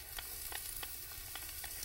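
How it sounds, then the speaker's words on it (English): Garlic sizzling in hot olive oil, a steady crackling fry with small pops, fairly quiet and close, no voices. "Good thing this time it's sizzling, nice and hot."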